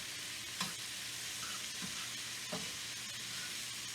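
Garlic and cabbage sauteing in a pan, a steady low sizzle with a few soft clinks of a utensil scattered through, close and with no voices.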